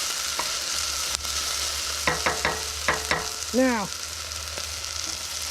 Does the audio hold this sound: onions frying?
yes